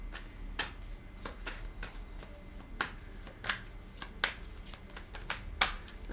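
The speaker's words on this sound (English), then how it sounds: "A few more shuffles and I'm gonna" A deck of tarot cards is shuffled by hand at close range, giving quiet, crisp riffling bursts repeated in a loose rhythm roughly every half second to second.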